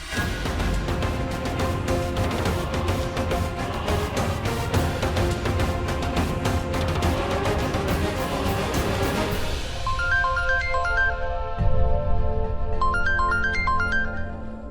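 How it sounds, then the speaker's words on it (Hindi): A melodic ringtone plays steadily at full volume, then switches to a brighter, sparser chiming pattern near the end; no voices. "संजना का फोन"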